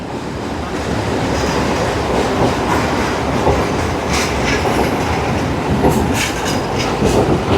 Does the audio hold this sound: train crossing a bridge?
yes